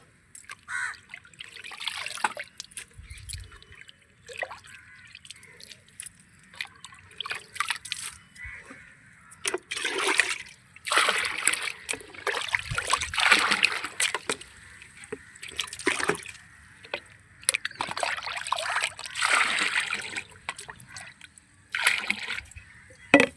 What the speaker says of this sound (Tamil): தண்ணி ஊற்றும் போதே கொஞ்சம் கொஞ்சம் ஊற்றி அப்படியே கொடுத்துடலாம்.